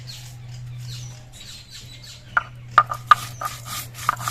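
Raw cumin seeds are ground on a grinding stone, soft rubbing strokes followed by several sharp, crackling scrapes and clicks, close and fairly quiet, over a low steady hum.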